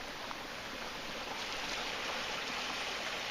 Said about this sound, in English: Nice little waterfall there.